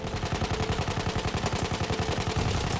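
A machine gun fires one continuous rapid stream at medium range in the World War I shooter Battlefield 1, an even, fast rattle of shots held for nearly three seconds, loud with no talk.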